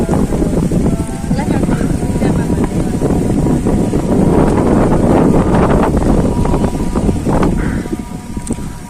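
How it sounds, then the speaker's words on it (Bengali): Strong wind buffets the microphone in a constant loud roar for the whole stretch, with muffled voices faintly underneath. "অনেক বাতাস"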